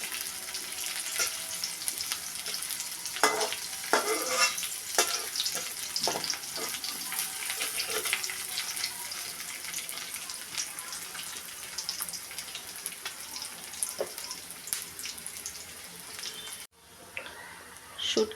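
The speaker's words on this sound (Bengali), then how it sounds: "তো শুটকিও ভেজে নিব একটু ভালোভাবে" Dried fish (shutki) frying with onions in a pan, a steady close sizzle running throughout with occasional stirring scrapes and clatters, loud and continuous before a brief drop near the end.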